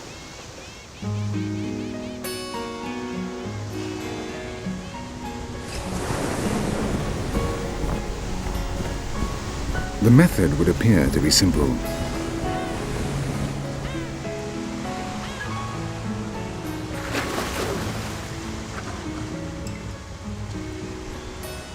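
Pacific Ocean surf breaks and washes against a young volcanic Galapagos coastline, a broad roaring swell that rises and falls, with narration running over the waves and music playing underneath.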